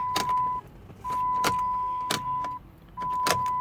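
A 2009 Chrysler Town and Country minivan fails to crank and gives sharp clicks at a slow uneven pace. A steady electronic chime starts and stops behind them, close and fairly loud, with no voices.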